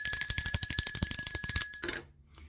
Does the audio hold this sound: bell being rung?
yes